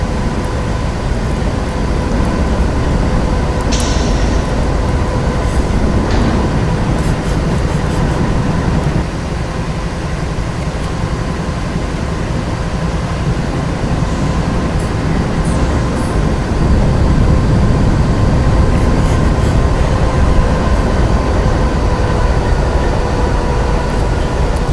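Union Pacific 844 steam locomotive in the Open Rails train simulator at the summit of Cajon Pass. A steady, loud, continuous rolling rumble and hiss with a few faint clanks, heard alone.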